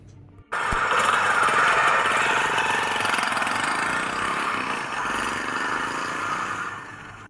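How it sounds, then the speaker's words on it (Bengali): A scooter engine starts with a sudden sharp burst, then runs at a steady, fairly loud buzz that eases slightly as it pulls away. "স্কুটারে স্টার্ট দিল ভিক্টর"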